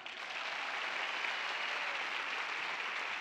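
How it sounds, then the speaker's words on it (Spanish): Steady, dense applause from a live comedy show audience, fairly faint and continuous for a few seconds with no talk over it. "¡Un aplauso para ellos!"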